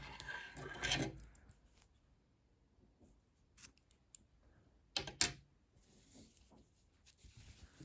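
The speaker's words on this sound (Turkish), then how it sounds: "İpliği burada kesiyorum" Scissors snip crochet yarn while a baby romper is being made, a quiet crisp cut near the start and another around the middle, among faint handling rustles and no speech.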